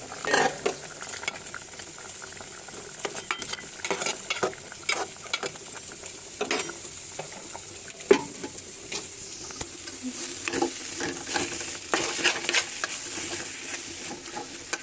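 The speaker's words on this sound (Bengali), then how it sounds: "ইলিশ মাছগুলো দিয়ে নিলাম" Hilsa fish cooking with taro greens in a pan, giving a steady oily sizzle broken by frequent scraping and clicking from a spatula stirring against the metal, close and moderately loud.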